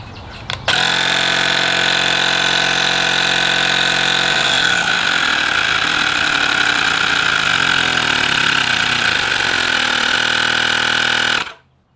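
A Fanttik X8 portable air inflator pumps a motorcycle tire, switching on with a click into a loud, steady, close motor buzz that holds for about eleven seconds before cutting off, with no talking.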